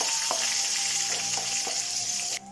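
Green chillies and spices frying in a pan for koottukari, a continuous close hissing sizzle with a few soft stirring taps, cutting off abruptly at the end.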